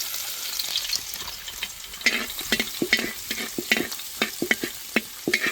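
Garlic sizzles steadily in hot sesame oil in a pan, with repeated scraping and stirring taps from a utensil over the crackle.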